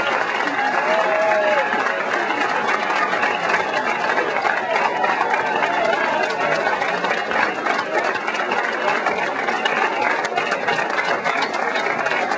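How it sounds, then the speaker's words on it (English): Audience round of applause, a dense, steady wash of many hands clapping at close range, continuous and even in loudness from start to finish, with crowd murmur blended underneath. "he does deserve his round of applause. Let's give it to him."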